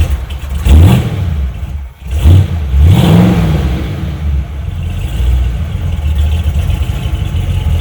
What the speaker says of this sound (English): How about some burnouts?